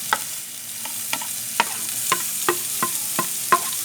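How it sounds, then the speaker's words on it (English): Semi-minced garlic sautéing in hot oil for chopsuey, a steady soft sizzle broken by about nine sharp clicks of a utensil stirring against the pan, close and fairly quiet, with no talking. "I'm going to be sauteing the garlic."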